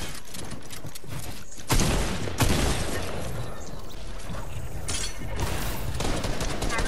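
Rapid gunfire bursts in the video game Fortnite, sharp cracks and volleys over constant game noise, with two louder impacts in the middle and continuing fire afterward.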